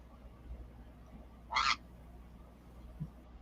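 A single short, bright bird call rings out once outdoors, fairly loud and clear against a quiet, steady background hum, with nothing else around it.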